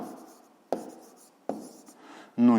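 Pen writing down a math answer on paper, several short scratching strokes with brief pauses between them, close and clear.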